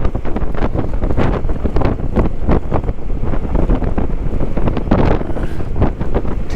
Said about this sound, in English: We got one heck of a breeze.